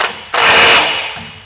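Ratchet wrench tightening the original bolt while installing a 1.5-inch lift kit on a 1999 Honda Acty HA7, a brief close burst of rapid clicking after a quieter start, then fading.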